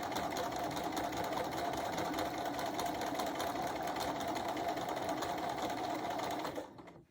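Sewing machine running steadily while quilting straight lines, its needle stitching in a fast, even mechanical whir that holds close and constant before stopping abruptly near the end.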